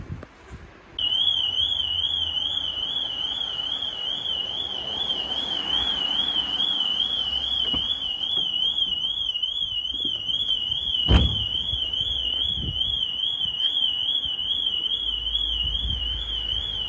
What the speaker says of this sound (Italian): l'allarme si dovrebbe disattivare